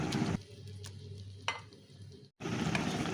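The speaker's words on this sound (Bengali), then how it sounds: "এখানে আমি জিরে আদা ধনে লঙ্কা বেটে রেখেছিলাম সেটাকে দিয়ে দিলাম এখন ভালো করে একটু কষিয়ে নিচ্ছি" Ground cumin, ginger, coriander and chili paste being sautéed with fried onion for a jackfruit and prawn curry gives a soft sizzle with scraping stirs. It drops briefly to near silence, then resumes.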